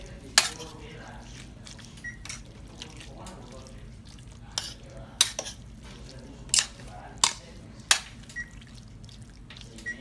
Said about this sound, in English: I'm gonna just stir it around in the sauce